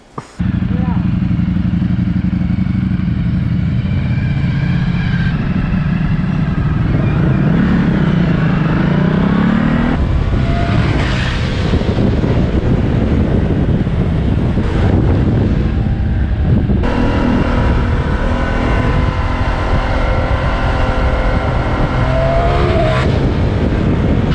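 A Ducati Streetfighter V4S motorcycle is ridden with its engine revving and shifting. Heavy wind rush on the microphone masks much of the engine, and a muffled voice is heard at times.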